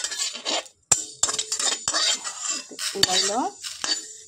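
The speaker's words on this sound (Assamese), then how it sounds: "এইখিনি মই কেৰাহীত ভাজি ল'ম।" A spatula scrapes and clinks against a wok while sliced dried areca nut is dry-roasted, with repeated sharp metallic taps and stirring scrapes, close and fairly loud.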